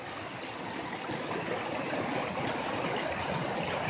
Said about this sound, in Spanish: disfrutar de el agua que está cayendo de la sierra.